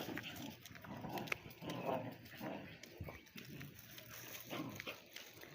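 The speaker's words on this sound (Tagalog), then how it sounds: "May aso." A dog whimpers and gives small yelps at a distance, faint amid people talking.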